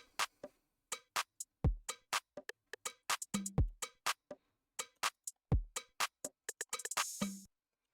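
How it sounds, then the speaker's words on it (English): A busy electronic percussion top loop of crisp, clicky hits and short metallic ticks, with punchy low kicks landing every couple of seconds, rising into a dense burst near the end. "with some effects and a top loop that sounds like this."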